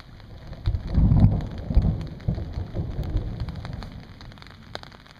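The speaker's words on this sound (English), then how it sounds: "Can you hear that thunder?" Deep rolling thunder rumbles directly overhead during a rainstorm at a lake campsite in Algonquin, swelling and fading, while steady rain patters on surfaces with occasional distinct drips nearby.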